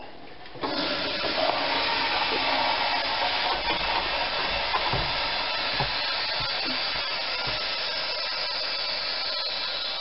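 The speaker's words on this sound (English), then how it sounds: "We're going to turn off the pump, release the valve" Air rushes into a home freeze dryer's vacuum chamber as its valve is released after the pump is switched off. A loud, steady hiss starts abruptly and holds evenly to the end.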